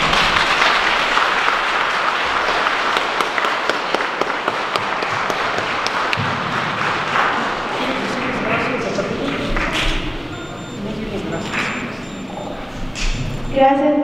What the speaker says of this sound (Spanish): vamos a dar un aplauso a ella, muchas felicidades